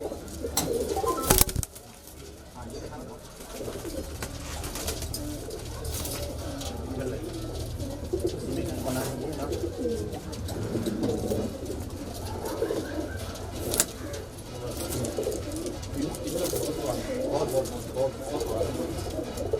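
High-flyer kalpare pigeons coo repeatedly inside a loft, their soft, throaty calls overlapping near and far, while people talk in the background and a brief clatter sounds early on.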